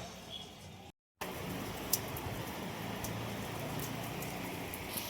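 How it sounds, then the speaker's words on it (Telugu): Rain falls steadily in Bangalore as a soft, even hiss with a few sharper drip ticks, faint and continuous after a brief cut to silence near the start. "బెంగళూరులో వర్షం చూడండి ఫ్రెండ్స్ టుడే"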